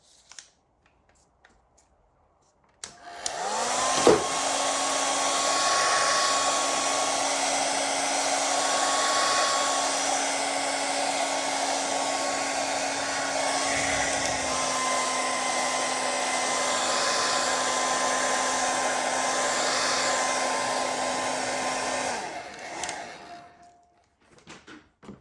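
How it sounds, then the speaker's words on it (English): A blow dryer runs steadily for about twenty seconds, drying a wet seascape painting; a loud, even whir with a constant motor whine that switches on abruptly and cuts off near the end, and no talking. "I'm going to dry this with a blow dryer because I don't want these other colors to run."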